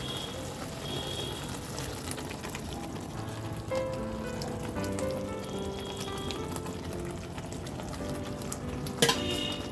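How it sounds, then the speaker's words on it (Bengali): Spinach paste for palak paneer fries in a pan with a continuous close sizzle, broken by scraping stirs and a sharp clink of the utensil near the end. "এবার আমি পেস্ট করে রাখা শাকটা দিয়ে দেবো।"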